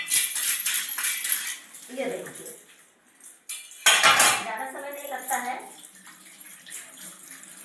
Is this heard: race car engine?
no